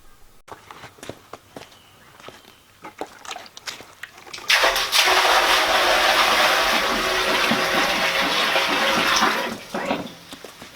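Water from buckets pours into a small septic tank being installed at an off-grid cabin site: quiet shuffling and handling first, then a loud, steady rush of pouring water lasting about five seconds before it tapers off.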